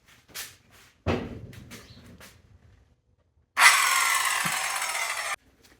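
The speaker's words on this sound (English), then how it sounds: "All right, we're gonna go ahead and cut this wood." A 2x6 wood board is cut for a planter box with a close, harsh saw burst of nearly two seconds, after a few quieter knocks and handling sounds.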